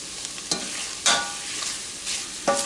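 Sweet onions slowly caramelizing in a pan with a little sugar, a soft continuous sizzle punctuated by a few brief stirring scrapes, close and moderate in level.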